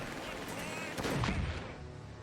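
An MG42 machine gun firing in the WWII strategy game Company of Heroes 3, a brief burst of gunfire peaking mid-clip within a busy battle soundscape, a voice talking alongside.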